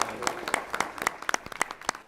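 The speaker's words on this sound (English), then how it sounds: "Let's give them a round of applause." A room at a city council meeting breaks into applause, many hands clapping at close range in a dense, irregular patter that keeps going at a steady level.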